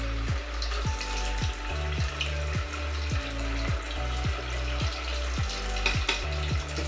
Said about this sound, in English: Let's deep fry this until it's golden brown